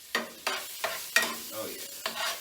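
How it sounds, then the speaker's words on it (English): Sweet potatoes are stirred in a pan, six quick close scraping strokes in a steady rhythm over a soft sizzle. "Let me go ahead and stir up these sweet potatoes."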